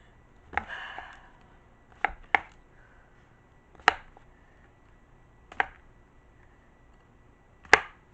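A knife slices portobello mushrooms into strips on a cutting board, giving about seven sharp, separate chops spaced a second or two apart, close and crisp in a quiet kitchen.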